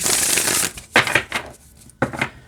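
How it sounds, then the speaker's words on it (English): A deck of wide tarot cards is shuffled by hand in close, quiet riffles and slides: an opening burst of papery rustling, then two shorter shuffling bursts separated by brief pauses. "You don't want a thick deck to shuffle."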